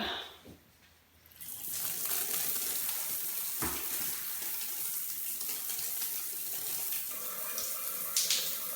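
Water runs steadily from a shower at a campsite along the Te Araroa trail, a continuous close hiss that starts after a brief quiet moment and carries on alone.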